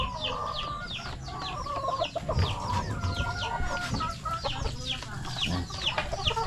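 Several chickens cluck close by in a busy, overlapping flurry of short calls, repeated throughout against a low rumbling background.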